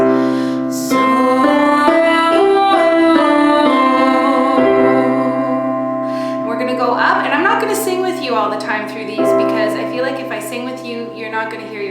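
Vocal warm-up sung on the syllable zo: one voice runs up and down a scale in sustained pitched notes, starting smooth and then turning into shorter, more varied phrases.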